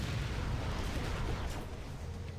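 A-10 air strike blasting targets in Command & Conquer Generals Zero Hour, an Air Force General battle: a steady, dense low rumble of explosions and booms rolling on throughout, fairly distant and muffled, with no voices.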